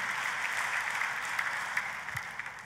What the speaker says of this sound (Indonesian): Kita kasih tepuk tangannya yang paling meriah buat Tuhan kita